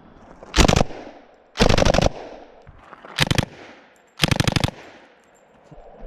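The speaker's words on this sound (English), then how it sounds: "William is shooting the Thompson." A Thompson submachine gun fires at targets in four separate loud bursts, each a rapid string of sharp reports of roughly half a second, with short pauses and no talk between them.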